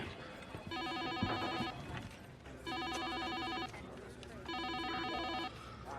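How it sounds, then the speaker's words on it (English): A telephone bell rings persistently in three long bursts separated by short pauses, loud and close, with a voice heard faintly in the background. "He didn't even notice the phone ringing persistently, as if begging him to pick it up."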